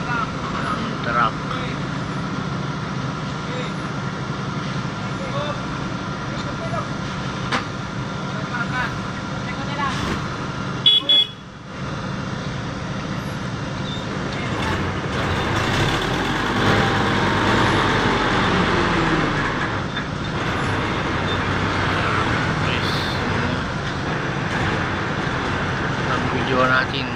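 A truck rumbles forward at an asphalt paving site, a low mechanical drone among steady site noise that swells midway, with people talking over it throughout.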